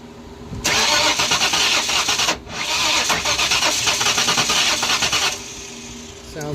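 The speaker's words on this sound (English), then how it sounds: "We managed to kill our brand new battery trying to start this thing" A 1994 convertible car engine cranking over and failing to start, a loud rhythmic starter churn in two long bursts with a short pause between them, with people talking.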